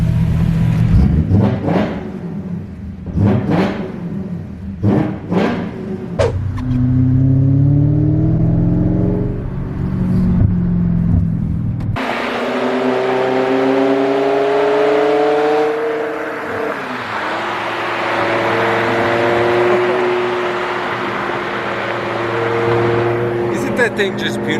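BMW M6 with a V10 engine revving hard in short bursts up close, then pulling away with a sustained, climbing engine roar; people talk over it at times.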